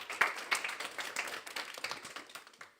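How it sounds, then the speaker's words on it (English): Audience applause for a speaker at a university machine learning talk, a dense patter of clapping from a modest crowd that rises sharply, holds steady, then tapers off over a few seconds. "So let's give him a big round of applause."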